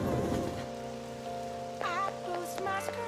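Steady rain ambience from Persona 5 Royal forms a constant wash throughout, with sustained background music tones layered over it and brief chiming melodic notes appearing near the end.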